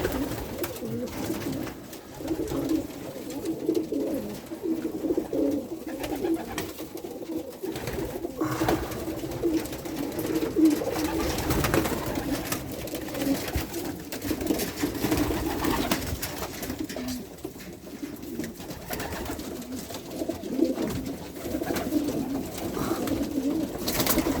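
German racing pigeons coo softly and repeatedly over a steady background murmur, several birds calling at once, close by.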